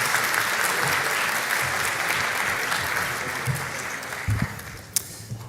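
Audience applause at a hackathon closing ceremony greets a finalist team taking the stage, a dense steady clapping that fills the room and tapers slightly toward the end, with a few louder claps near the close.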